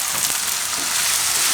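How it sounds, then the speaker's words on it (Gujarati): Ginger, chilli and garlic frying in oil, a dense bright sizzle close to the pan with light stirring underneath, steady throughout and without speech. "અને થોડીક વાર તેલમાં ફેરવી દેવાનું"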